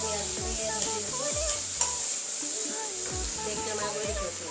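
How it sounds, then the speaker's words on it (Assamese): Fish belly and onion fry in oil in a pan, a close steady sizzle broken by scraping stirs, with someone speaking over it. "পেটুখিনি আৰু পিঁয়াজখিনি ভাজি আছোঁ"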